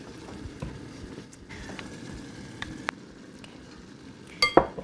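Pan of venison simmering, a quiet steady bubbling sizzle with scattered light clinks of a utensil and a louder scrape near the end, with no talking.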